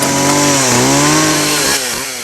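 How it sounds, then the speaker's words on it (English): Close, loud chainsaw buzz cutting into an apple held in a sideshow performer's mouth, a continuous high engine drone whose pitch sags under load then recovers, ending with a brief drop in power. "a chainsaw!"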